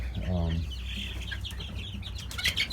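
Large chickens cluck and murmur nearby, one louder call at the start followed by scattered softer clucks and a rustle toward the end.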